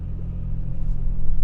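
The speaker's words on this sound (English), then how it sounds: "So I'm gonna gradually get into this throttle and see if there is any slippage." Toyota Tacoma TRD Pro engine under gradual throttle off-road, a low rumbling drone that swells slightly louder over a brief stretch, heard alone without talk.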